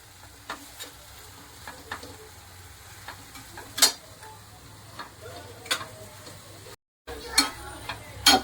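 Methi bhaji with masala paste is stirred in a pan over low heat, giving soft scraping strokes and scattered clicks of the spoon against the metal, with a faint sizzle beneath.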